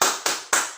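Three quick, loud bursts of many hands clapping together in rhythm, close by.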